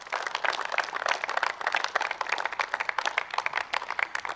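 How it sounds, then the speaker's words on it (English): Crowd applause for the commentary crew at a T20 international cricket match in Gibraltar, a steady patter of many hands clapping, moderately loud and sustained, with sharp individual claps standing out. "Give them a round of applause"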